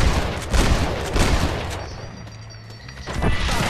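Gunfire in the western game Red Dead Redemption: loud, overlapping shots and booms crowd the opening, ease off through the middle, then pick up again near the end.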